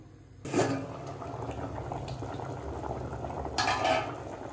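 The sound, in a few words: dry fish curry with potatoes coming to a boil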